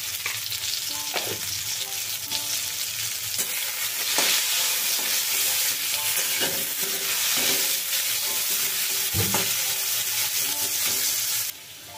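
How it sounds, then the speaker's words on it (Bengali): Salted potatoes fry in oil with a loud, continuous sizzle, broken by occasional stirring knocks, then the sound drops away abruptly near the end. "আলুগুলো লাল লাল করে ভেজে নিয়েছি"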